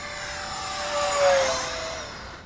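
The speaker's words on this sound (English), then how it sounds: "I just love this jet." A Freewing Rebel V2 RC model jet flies past with a steady high-pitched turbine-like whine that swells as it nears, peaks mid-pass, and then fades slightly as it moves away.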